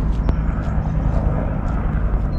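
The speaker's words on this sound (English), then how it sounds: "It's a helicopter." A Huey helicopter passing overhead a riverbank on a chilly weekend, a steady rumbling engine drone with faint rotor texture, fairly loud and continuous, with no speech.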